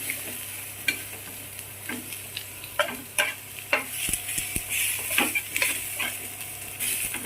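Vegetables for Hakka noodles frying and being stirred in a wok over an open flame, a steady sizzle broken by irregular scraping and clattering tosses, close and alone with no talk.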